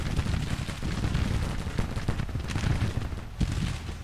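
Massed musket and cannon fire from a Civil War battle in the strategy game Grand Tactician, a dense continuous crackle of volleys with deep booming rumbles underneath.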